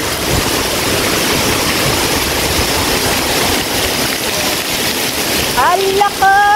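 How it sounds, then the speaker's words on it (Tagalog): Heavy rain pours steadily and loudly in Singapore, a dense constant roar from start to finish, with a few brief tonal sounds near the end. "Oh, lakas ng ulan."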